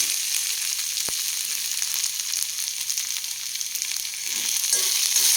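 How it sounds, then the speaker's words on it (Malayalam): Sliced onions sautéing with salt in a pan for an egg curry give a steady, close sizzle and crackle, with a single sharp tap partway through and some soft stirring scrapes near the end; no one speaks. "ഒന്ന് ഇളക്കി യോജിപ്പിച്ച്"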